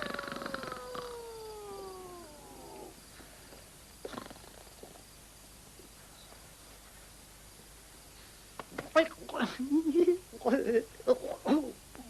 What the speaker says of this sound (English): That damn rooster thinks he's an owl.